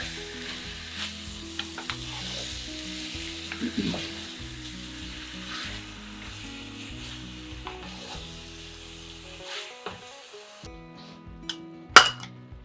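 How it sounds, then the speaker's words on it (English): Ground pork sausage browns in a pan on an outdoor propane burner, sizzling steadily with occasional clinks of a utensil against the pan and one sharp clink near the end. "now that we have the ground beef all kind of browned up"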